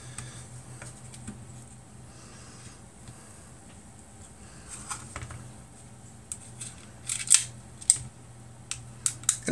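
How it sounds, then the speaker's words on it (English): Small screws are being undone on a Makerbot Smart Extruder, giving quiet scattered ticks and light metallic clicks, sparse at first and then a few sharper clicks near the end. "So just take these screws apart,"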